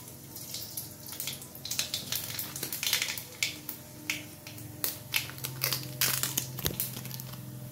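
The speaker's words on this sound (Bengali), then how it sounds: "এবার আমি ফোড়নে দিয়ে দেবো কিছুটা কালো জিরে" Nigella seeds dropped into hot oil in a wok, crackling and popping in irregular sharp bursts over a faint steady sizzle, close and fairly quiet.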